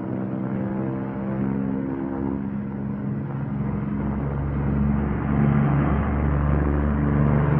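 The twin engines of a P-38 Lightning fighter aircraft roar loudly and steadily during takeoff, building slightly in power toward the end.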